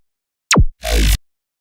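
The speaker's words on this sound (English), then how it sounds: "Then I have these basses right here, which are all also being processed." Processed synth bass in a music production session: a short downward-sweeping bass hit followed by a dense, noisy sustained bass burst, loud and isolated with silence around it.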